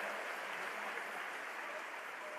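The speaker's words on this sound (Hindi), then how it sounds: "जोरदार तालियों से आप सहभागी रहें" Steady, moderately faint applause from an audience at a formal political ceremony in Delhi, an even wash of clapping with no clear breaks.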